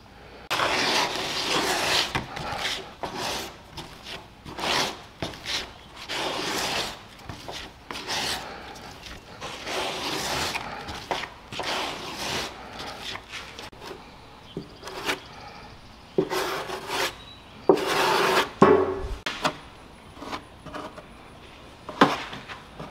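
Scraping and rubbing strokes of fiberglass-type Bondo filler being spread over the worst damaged spots of a car body repair, irregular bursts of rasping with short pauses, fairly close and without talk.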